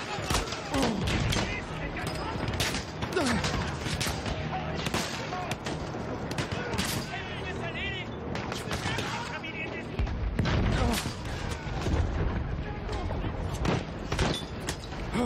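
Pistol gunfire in Battlefield 1 amid a busy battlefield, with repeated sharp shots and distant booms popping throughout while people talk over the action.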